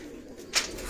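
Pigeons in a fancier's loft in Gujranwala give a brief, moderately loud coo that rises out of a low background murmur, then fade back into steady ambient noise.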